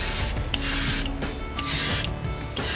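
An airbrush sprays pearlescent paint onto a custom topwater fishing lure in three steady, close hissing bursts separated by short pauses, with no voices.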